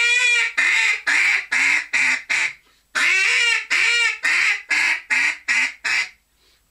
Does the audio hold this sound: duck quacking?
yes